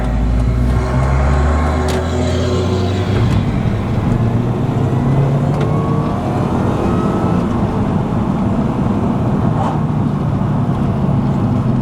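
Supercharged Mini Cooper S R53 driving, heard from inside the cabin with a window cracked: a loud, constant engine drone carrying a thin rising whine as it pulls.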